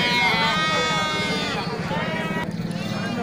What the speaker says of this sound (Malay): banyak bakalan domba super yang hadir ke pasar hewan